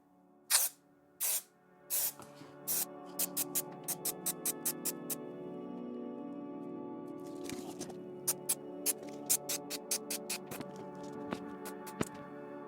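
Short hissing bursts of spray adhesive during a VW headliner install, a few longer blasts followed by quick rhythmic puffs, fairly close, over a steady low background hum.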